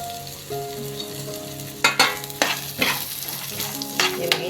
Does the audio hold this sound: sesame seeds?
yes